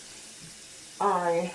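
Water runs from a sink tap for rinsing in a small washroom, a steady close splashing stream that starts abruptly after a quiet moment, with a single spoken word just before it.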